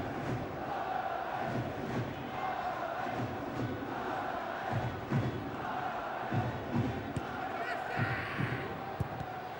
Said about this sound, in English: Volume just goes up a little bit from the Darlington crowd